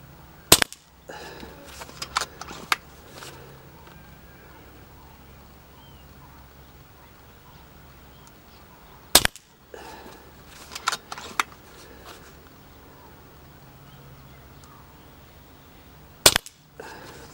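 Sharp cracks from an FX Crown air rifle fired at a range, three spaced shots with small clicks and handling noises between them against quiet outdoor ambience.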